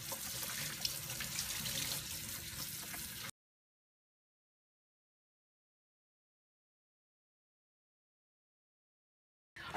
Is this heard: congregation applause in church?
no